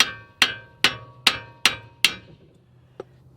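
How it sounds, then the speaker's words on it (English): Six sharp metallic hammer blows land at an even rhythm, close and loud, while hammering out a ball joint on a 2011–2016 Scion tC, followed by one lighter tap after a pause. "so we're just gonna hammer it out"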